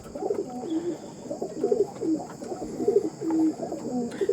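Andhra breed pigeons coo repeatedly and close by, a rolling series of soft, throaty, overlapping calls over a faint, steady high-pitched background whine.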